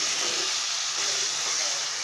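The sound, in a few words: meat frying in oil with spices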